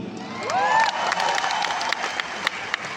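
Audience applause and cheering at an anniversary event for the RCM, a dense crowd clapping steadily for about three seconds with a few shouts on top.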